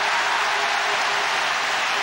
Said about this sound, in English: Huge cheer.